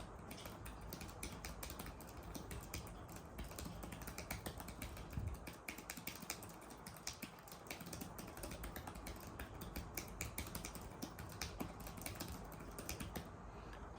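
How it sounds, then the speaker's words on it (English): Steady typing on a Dexnor keyboard case for a Samsung Galaxy S6 Lite tablet, with dense, continuous light key clatter close up for the full stretch and no talking. "the typing experience is very good"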